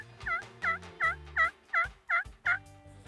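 A wild Osceola turkey gobbles at dawn in Florida, heard from a hunting blind. Seven short, rattling calls come in a quick, even series, moderately faint and somewhat distant, with no talking.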